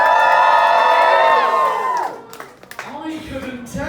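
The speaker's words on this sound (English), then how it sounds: "Give us a cheer if you think that it's Martin." Pub crowd at a roast battle cheering and whooping for a contestant, a loud burst of shouts and some clapping that drops off after a couple of seconds, leaving scattered voices.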